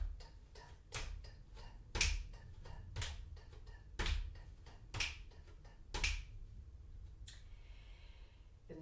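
Sharp hand claps in a steady waltz-like rhythm, roughly one per second across about eight beats, close and crisp with no talk.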